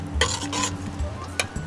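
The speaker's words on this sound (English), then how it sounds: "I'm getting that familiar sizzle now." Whole spices sizzle and crackle in a hot pan for a home-cooked chicken curry, with a steady frying hiss, stirring scrapes and occasional sharper pops, heard close with no talking.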